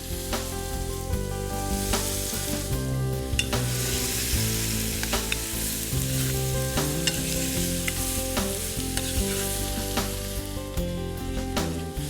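Grated bottle gourd and vegetables stirred in a pan with a steady sizzle and scraping, running continuously without pause, with background music layered over the frying throughout.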